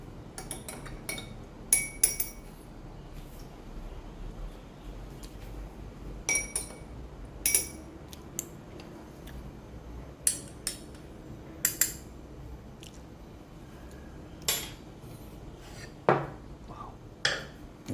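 Spoon clinking against a cup while stirring Brew Therapy coffee crystals, a series of light, irregular metallic taps at close range over a quiet room background, with no talking.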